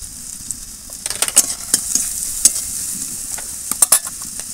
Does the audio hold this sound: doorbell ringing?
no